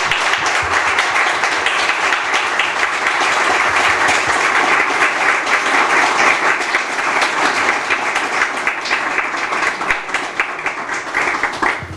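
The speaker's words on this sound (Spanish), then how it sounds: "Yo diría que se merece un aplauso." An audience breaks into steady, full applause after a presentation, with dense clapping and a faint murmur of crowd voices sustained at an even level for about twelve seconds, easing slightly at the end.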